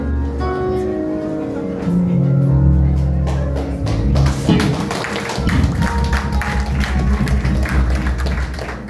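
A crowd claps in scattered, uneven bursts, with people talking loudly over and between the applause.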